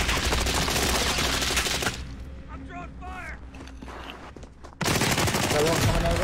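Call of Duty gunfire pours out in dense automatic bursts, loud at the start, drops away while a player talks, then returns in a heavy fusillade.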